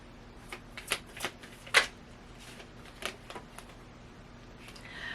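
Tarot cards are shuffled and drawn in a quiet room: a handful of soft, crisp card flicks and slaps at uneven intervals, close and moderately faint, with no talking.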